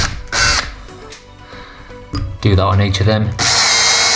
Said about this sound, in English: now we're ready for pre-drilling